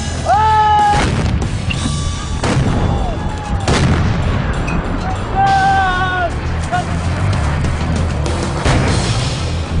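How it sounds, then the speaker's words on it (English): Afghan National Army howitzers launching artillery shells from a base, with loud booming blasts at intervals amid constant vehicle and camp noise, distant shouts and whistle-like tones. "their allies in the Afghan National Army launch howitzer shells"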